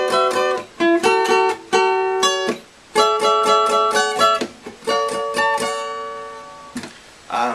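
Electric guitar lead line played alone, a run of clear picked notes and short phrases with sustained tones, close and fairly loud throughout.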